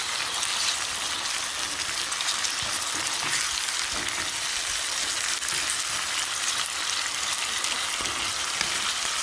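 Tomato puree fries in a pan as the base for Jamaican salt mackerel, giving a loud, even, close-up hiss of bubbling and spitting that holds steady throughout, with no voices.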